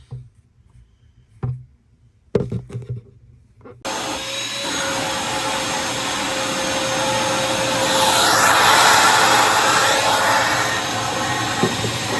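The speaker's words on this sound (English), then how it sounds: "Just needs some vacuuming. I'm going to do that next." A vacuum cleaner switches on after a few knocks and handling sounds, then roars steadily and loudly, its pitch rising and falling as it moves.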